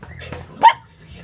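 A puppy gives a single sharp bark indoors, close and loud over quiet room sound, while playing with a kitten.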